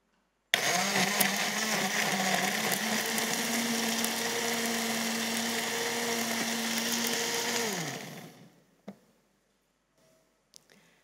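A blender whirs loudly and steadily for several seconds, then winds down to a stop, followed by a few faint clicks and clunks.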